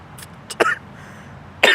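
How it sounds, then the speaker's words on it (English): A person coughs and chokes after something goes down the wrong pipe: a few short, sharp coughs close by, a quick pair then a louder burst after a pause, with no talking. "I guess when trying to cough, choking, it went down the wrong pipe there."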